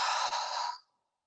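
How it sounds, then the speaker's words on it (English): One long, breathy exhale during a yoga hamstring stretch flows steadily at close range for under a second, then trails off into silence. "we are going to do our let it go breath here"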